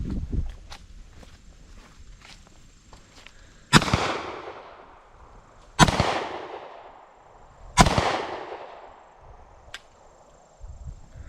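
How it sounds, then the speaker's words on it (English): Pistol shots fired at a target at the range during a trigger-control dummy drill, three loud sharp cracks spaced about two seconds apart, each with a ringing decay, preceded by softer handling clicks and followed by a quieter click. "You can rack the slide and shoot when ready."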